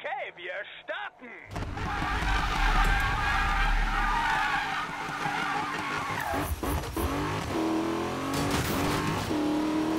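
A car in Need for Speed (2015) roars off with a loud engine rev, then drones on steadily with tire squeal and skidding, while voices talk over it at the start and later.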